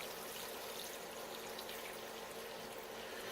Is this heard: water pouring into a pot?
yes